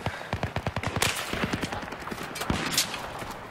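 Suppressed M5K gunfire in Battlefield 3, a rapid run of muted, snappy shots in quick bursts followed by scattered further shots and game noise.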